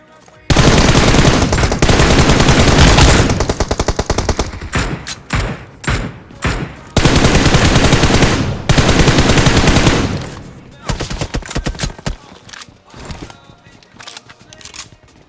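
Loud, dense gunfire from an AWM sniper rifle and other weapons in the BGMI battle game, with sustained rapid bursts broken by short gaps and scattered single shots near the end.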